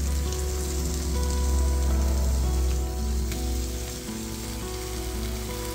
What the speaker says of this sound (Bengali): এবারে চিকেনগুলো দিয়ে দেবো এর মধ্যে